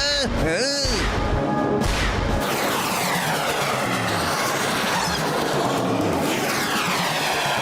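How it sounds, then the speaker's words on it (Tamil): Rockets fly through the sky in a cartoon, making loud, continuous whooshing roars with sweeping, falling whistles layered over one another, and a brief voice near the start. "வானத்துல ஒரே நேரத்துல எவ்வளவு ராக்கெட் பறக்குதுன்னு"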